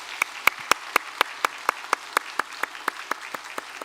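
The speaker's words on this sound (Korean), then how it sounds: "우리 박수로 환영하겠습니다." Hands clap in an even, steady rhythm during a Sunday church service, about four claps per second, with no talking over them.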